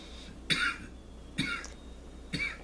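Ritual coughing after burning a holy herb, three separate harsh coughs spaced about a second apart, heard fairly close in a quiet room with no talking.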